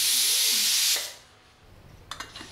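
Pressure cooker on a home stove venting steam, a loud sustained hiss that cuts off abruptly, followed by quieter kitchen rattles and a few soft clicks.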